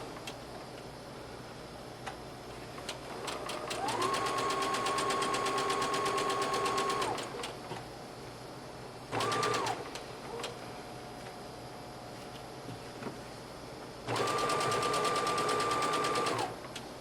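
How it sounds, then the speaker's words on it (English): A sewing machine stitches the 5/8 inch side seam of a classic everyday dress, running in three steady bursts: a long one, a short one and a final long one, each with a quick, even mechanical rattle and quiet pauses between. "now watch carefully as I sew over this"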